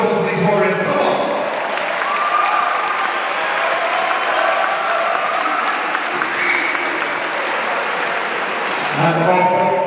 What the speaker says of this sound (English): Let's have a round of applause for these warriors.